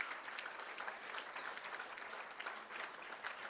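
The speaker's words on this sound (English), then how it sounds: "Let's give him one more round of applause." Applause rings out at a school board meeting, a brief, even patter of clapping from a modest room audience lasting a few seconds with no speech over it.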